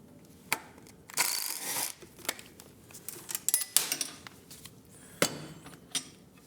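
Ratchet clicking in short bursts while T30 bolts are loosened from the stock ABS brake of a 2024 Triumph motorcycle, with sharp metallic ticks and scattered tool clanks, close up and fairly quiet.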